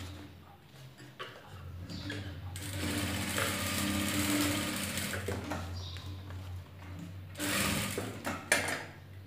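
A domestic sewing machine hums and rattles steadily through most of the stretch while stitching the fabric of an old nighty being turned into palazzo pants, close and moderately loud, rising in short faster bursts.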